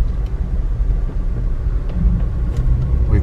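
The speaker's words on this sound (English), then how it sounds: "We've been driving on a dirt road for a long time, like 15 miles." A car rolls along a long dirt road at the southwest corner of Yellowstone National Park, with a steady low engine and tire rumble running throughout and no talking.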